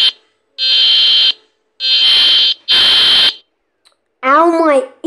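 An EAS emergency alert system alarm tone, loud harsh buzzing bursts repeating in a stop-start rhythm, followed by a shorter warbling tone at the end.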